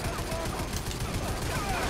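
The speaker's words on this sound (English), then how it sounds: "they're shooting me" Dense, continuous gunfire from the vehicular combat game Twisted Metal, with rapid overlapping shots filling the whole stretch at steady loudness, as if under fire from nearby.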